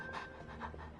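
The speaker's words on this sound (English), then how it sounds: "what a well-behaved doggy" A dog named Swuff panting in the video game Genshin Impact, a few quick close breaths in a short rhythmic burst, soft and alone.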